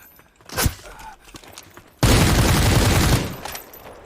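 Gunfire in the shooter game Super People: a single sharp shot, then a loud sustained burst of rapid automatic fire from an MP5 lasting about a second before cutting off.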